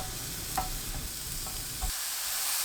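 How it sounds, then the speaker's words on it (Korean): Thick slices of king oyster mushroom sizzle in a preheated, unoiled pan over medium heat, a close steady frying hiss with a few light stirring clicks before the sizzle drops away near the end. "팬을 예열하고 버섯을 중불로 구워주세요."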